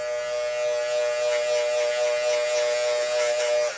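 An electric hair clipper runs close and loud with a steady, even buzzing hum, then cuts off just before the end.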